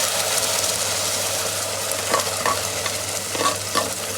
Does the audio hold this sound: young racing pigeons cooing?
no